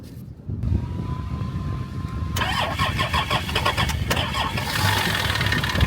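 A car engine cranks and catches after a jump start from a NOCO booster, then settles into a steady mid-pitched idle with a slight rev, close and loud with no talk.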